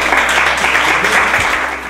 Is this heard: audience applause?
yes